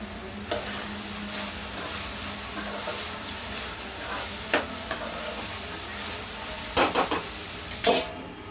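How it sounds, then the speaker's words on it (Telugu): Ivy gourd fry curry sizzles steadily in a pan over low heat while a spoon stirs it, with a few sharp metallic scrapes and clinks against the pan near the end. "మూత తీసుకుని ఒకసారి కలుపుకుందామండి."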